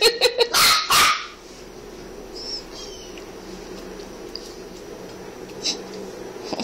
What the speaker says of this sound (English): It's like bark, bark, and then eat something off the floor.